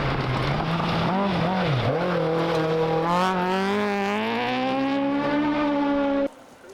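A rally car on a Welsh forest stage road at the Plains Rally roars close by, its engine note climbing steadily through the revs, loud and unbroken, before cutting off abruptly near the end.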